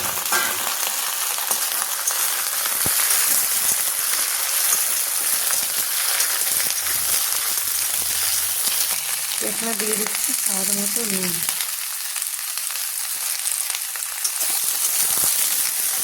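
Flat beans, eggplant and potato fry with onion in a pan, giving a steady rain-like sizzle throughout, while someone briefly speaks over the cooking.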